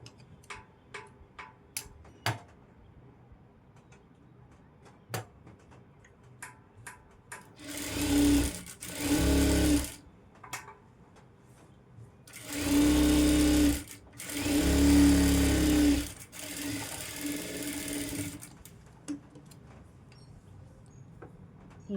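Sewing machine stitching a blouse sleeve, running in two loud bursts of steady whirring, each broken by short pauses, with faint ticking handling sounds between the runs.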